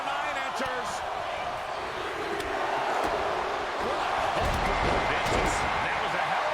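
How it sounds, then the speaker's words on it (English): Large arena crowd at a WWE Royal Rumble wrestling event roars in a steady, dense wash of cheering and shouting, swelling louder toward the end, with thuds from the ring and a commentator talking over it. "Listen to this crowd."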